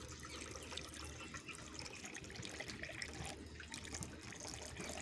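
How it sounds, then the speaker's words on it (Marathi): Water pours steadily into a tractor's radiator, a continuous splashing, gurgling flow heard close up and alone, with no voices over it. "असं हे फुल करून घ्यायचं असतं रेडिएटरमध्ये पाणी"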